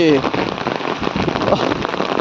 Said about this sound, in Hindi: बहुत वर्षा हो भाई